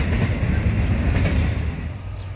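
A heavy Norfolk Southern freight train rumbles past close by in South Bend, Indiana, a steady low roar with faint rhythmic clatter of wheels on rails, no voices.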